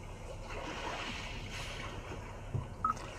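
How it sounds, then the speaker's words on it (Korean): Gentle ocean waves played through a Kia K7 Premier car's nature-sounds system: soft, steady wash with a low rumbling surf, continuous and gentle, with a couple of brief bumps near the end. "잔잔한 파도 소리,"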